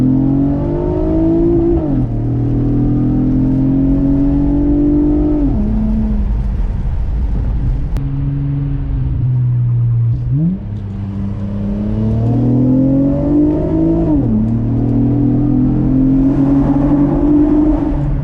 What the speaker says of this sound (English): I'm gonna go ahead and do a little first gear pull right now.